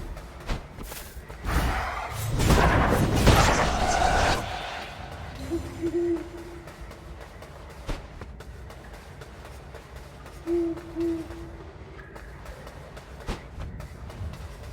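An owl in the video game Death's Door gives two soft, short hoots amid ambient game sounds, after a louder rushing burst near the start, with scattered clicks throughout.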